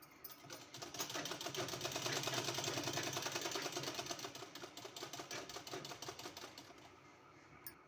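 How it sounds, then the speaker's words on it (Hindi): A sewing machine runs steadily, stitching piping along the neckline edge of a kurti with a fast, even mechanical clatter that rises and then eases off near the end, close by and with no talking. "इसका पहले किनारे में हमको इस तरह से सिलाई लगा देना है"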